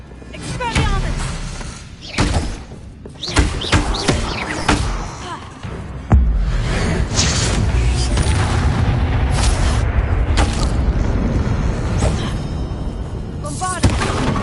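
Bombarda and Confringo spell explosions in the video game Hogwarts Legacy, a rapid series of loud booms and thuds over dense combat noise, with a voice speaking in the middle of the fighting.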